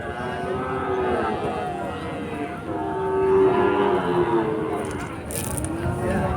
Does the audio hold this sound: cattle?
yes